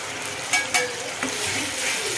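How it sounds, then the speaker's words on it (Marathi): Spices and onion frying in hot oil for Maharashtrian chicken sukka, a steady close sizzle with a few sharp clicks of a spoon against the pan partway through. "ते पण छान तेलावर एकदम खरपूस तळून घ्यायचं आहे आपल्याला याच्यामध्ये"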